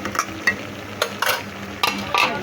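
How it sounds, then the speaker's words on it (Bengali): A vegetable stalk curry sizzles in a frying pan as a spoon stirs it, making soft scraping strokes and light clinks over a continuous gentle frying hiss, with no speech. "আমি আর একটু নাড়াচাড়া দিয়ে দিচ্ছি"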